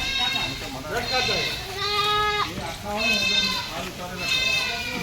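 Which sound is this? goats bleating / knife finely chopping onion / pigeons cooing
goats bleating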